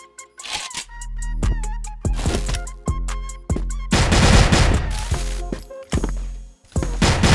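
Gunfire in a shooter video game comes in rapid automatic bursts and sharp single shots, loud and close, with short pauses between volleys.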